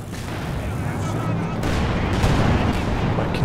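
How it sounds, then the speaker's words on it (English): A dense, continuous artillery barrage in a strategy video game, with rumbling shell blasts and crackling gunfire rolling together without a break. "Oh, this barrage."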